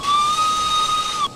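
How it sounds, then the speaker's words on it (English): A steam locomotive's whistle in the Derail Valley train simulator game gives one sustained, steady, shrill tone lasting just over a second before cutting off sharply, loud and close over a soft hiss, with no talk. "whistle."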